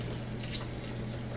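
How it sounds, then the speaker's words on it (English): Hot water at about 170 degrees poured slowly over malted grains to sparge beer in a Brooklyn Brewshop home brewing kit, a steady close trickle with a low hum underneath. "I'm going to go ahead and pour this stuff over these grains."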